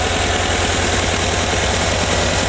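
Steady, loud idle of a 1985 VW Vanagon engine, close up, with a rough rhythmic pulse and knocking vibration while the ignition timing is advanced.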